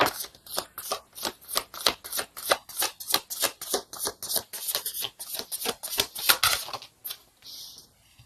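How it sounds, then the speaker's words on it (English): Tarot cards being shuffled in a long run of quick, crisp riffles and flutters, repeated bursts close up with no talking, ending in a softer brush of cards. "Let's get one more card for the Wheel of Fortune."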